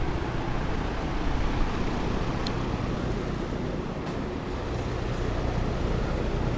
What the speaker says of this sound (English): This is our fan that we have blowing in here during the day.